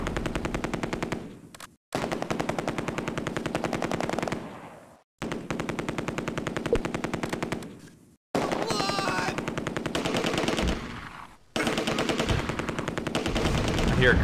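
Sustained machine-gun fire from Vickers guns in the Close Combat war game, heard as long rapid bursts separated by short pauses, loud and close with echoing gunfire.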